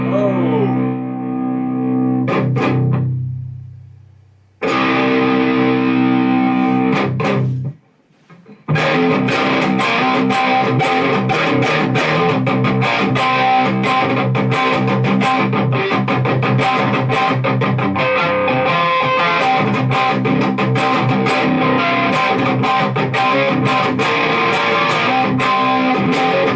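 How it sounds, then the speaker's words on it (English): An electric guitar played through an Orange Micro Dark mini amp with the gain turned up, giving a thick, dark high-gain distortion; a sustained chord fades out, then loud distorted riffing continues steadily. "Quite a dark distortion there"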